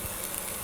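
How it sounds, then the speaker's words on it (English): Onions and garlic sizzle in olive oil in a pan, a brief, steady close hiss of frying with no talk. "Really nice sizzle."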